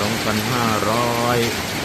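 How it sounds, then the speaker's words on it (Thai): Heavy rain pours down in a dense, steady wash, with a low, constant hum underneath the downpour. "มากับสายฝน"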